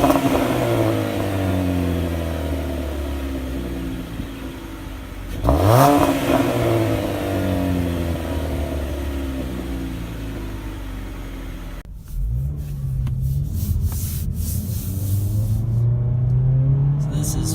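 A Jeep Renegade Limited with a 2.4-liter Tiger Shark engine and nine-speed automatic accelerates at full throttle, its engine note rising repeatedly through several upshifts, loud and close, with an abrupt change in tone partway through.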